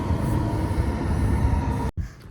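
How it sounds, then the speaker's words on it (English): An eastbound freight train rolling past a railroad crossing in Springfield, Ohio, a loud continuous rumble and rattle of wagons up close that cuts off abruptly near the end, with no voices. "We got an eastbound train coming right now."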